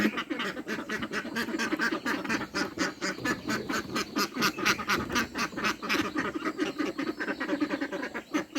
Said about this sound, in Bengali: দেখো সবাই তো হাঁস শুধু ডাকতেছে